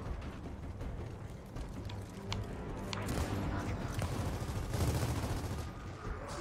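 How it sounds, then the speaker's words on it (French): Gunfire in the video game Gears of War 4 crackles in repeated bursts and scattered shots at moderate distance, steady and busy throughout, with players' voices occasionally under the shooting. "Il est où le dernier qui nous tire dessus là?"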